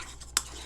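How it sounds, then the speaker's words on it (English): Aloe vera moisturizing lotion mixture being stirred with a stirring rod, one faint, brief clink against the container over a quiet background. "you're going to stir it very well to get rid of any air bubbles"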